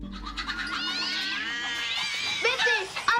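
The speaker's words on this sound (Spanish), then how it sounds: "los sonidos que escuchamos son de gatos y de gallinas" Cats yowl and caterwaul in a Hey Arnold cartoon, long wavering cries rising and falling, fairly loud and close, with a second, sharper yowl near the end over a faint background.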